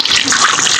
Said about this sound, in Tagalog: Tubigan natin si Jessie